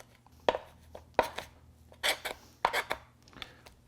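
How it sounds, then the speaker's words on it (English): The back of a knife scraping meat off a veal chop bone, a series of short, close, gritty scrapes and taps in an irregular rhythm, with no talk. "you can kind of use the back of the knife to scrape, and it really cleans up that bone nicely"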